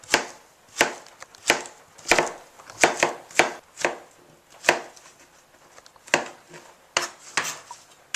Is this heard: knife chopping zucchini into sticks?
yes